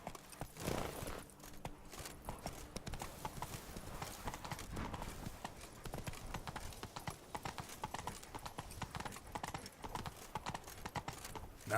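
Rapid hoofbeats of a horse galloping in The Witcher 3 game, a steady, close clip-clop rhythm running throughout with a brief whinny-like burst near the start.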